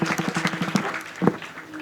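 An audience claps at a Varkari kirtan festival, a short burst of quick, dense applause that rises and fades within a couple of seconds.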